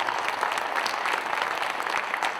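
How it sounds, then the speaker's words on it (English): Audience applause at a Cardinal Caravan event in Joplin: dense, steady clapping from a sizable crowd fills the whole stretch at an even, fairly loud level with no voices over it. "I just want to get a round of applause for a few people"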